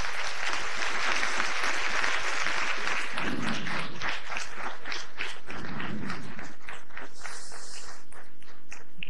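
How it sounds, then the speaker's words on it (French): Applause from a seated audience for a speaker named Christophe after a talk on a reform, a broad steady wash of clapping that gradually thins and fades out, with a few stray sounds near the end. "Oui, vous pouvez l'applaudir"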